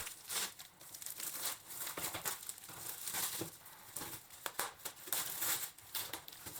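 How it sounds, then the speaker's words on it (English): Packaging around the pre-made sails of an Amati HMS Bounty model ship kit is unwrapped, producing continuous close crinkling and rustling with scattered crisp crackles. "Let me unwrap this so that we can see what's inside."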